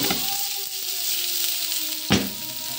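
Garlic sizzles steadily in hot oil, a continuous hiss that runs throughout, then a sudden louder crackling burst near the end as onion drops into the pan.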